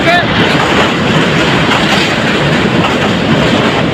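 Small local Surma Mail train rolling onto the Brahmaputra rail bridge in Bangladesh, a loud, dense, continuous rumble and rattle heard from close by, with no pauses.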